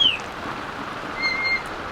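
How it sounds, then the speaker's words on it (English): Rain falls steadily on a sailboat at anchor as a hurricane approaches, a soft continuous patter of drops on deck and water, close and even, with a faint bird call briefly over it. "Now at least we're catching some of the rain."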